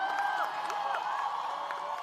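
Graduates of the United World Institute of Design cheer at a Karnavati University convocation in Ahmedabad, a brief, loud burst of crowd shouts and whoops filling a large hall.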